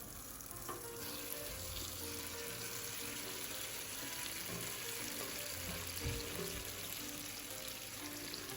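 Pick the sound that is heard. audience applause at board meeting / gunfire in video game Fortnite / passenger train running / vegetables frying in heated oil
vegetables frying in heated oil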